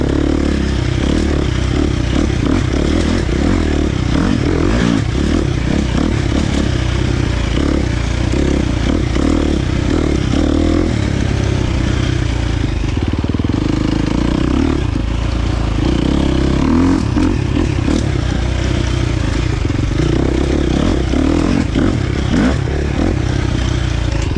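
A KTM 350 XC-F dirt bike with a Vortex ECU tuned by Twisted Development, ridden off-road with its engine loud and close, revving up and down continuously with clattering and scraping from the chassis and terrain.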